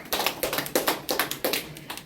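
Applause for a speaker at a press conference held by a North Korean defector group, a brisk run of claps with sharp rhythmic peaks lasting about two seconds, close and fairly dense.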